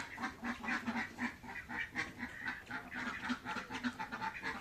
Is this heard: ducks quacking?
yes